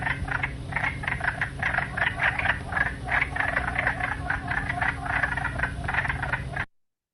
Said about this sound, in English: The wood frog kind of sounds like harsh quacks coming from the wetland.